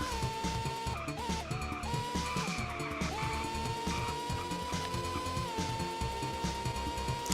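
Race cars in Formula Retro Racing on Nintendo Switch scream along with engines whining and tires squealing through skids. The pitch wavers as they slide, loud and continuous with no talking.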